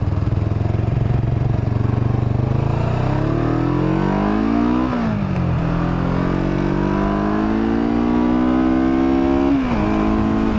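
A Kawasaki Vulcan 500 cruiser motorcycle engine revs up and down under light throttle, its pitch sweeping upward twice and dropping sharply each time, loud and close with no voices over it.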